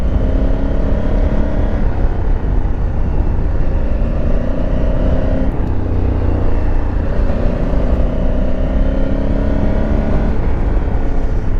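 A car engine runs loud and steady with wavering tonal drone, the tone shifting midway as the driver brakes hard and the rear end slides out, heard from inside the vehicle on an off-road track.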